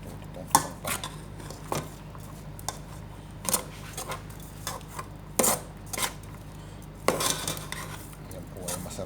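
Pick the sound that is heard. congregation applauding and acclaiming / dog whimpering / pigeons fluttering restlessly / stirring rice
stirring rice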